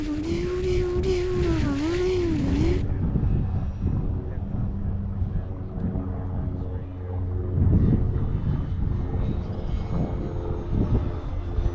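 A Bigfoot RC model aircraft taking off in heavy wind, its engine droning steadily at first, then buried under loud, continuous buffeting wind noise on the microphone.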